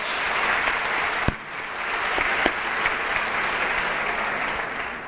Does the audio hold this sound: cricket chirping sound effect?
no